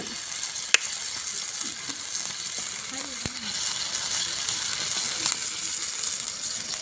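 Quail eggs frying and being stirred in a pan, with a steady close sizzle and a few scraping knocks from the stirring, carrying on unbroken throughout.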